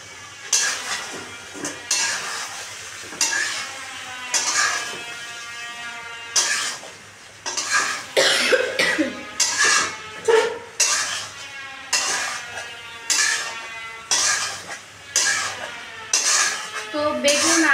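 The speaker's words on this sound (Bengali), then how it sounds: "আর এখন আমি দিয়ে দিচ্ছি বেগুন আর আলু" Eggplant and potato are stirred in spiced curry masala in a pan, with repeated scraping and clanking of a metal spoon against the cookware in uneven bursts over a faint low sizzle, and no talking.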